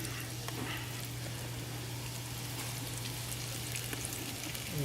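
Chicken fried deer steaks fry in grease in a skillet, a continuous dense crackling sizzle held at an even level over a low steady hum, close and with no talk.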